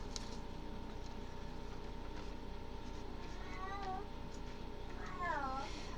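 A pet cat meows twice, a short rising-falling call followed by a longer, louder one, over a steady background hum with faint voice.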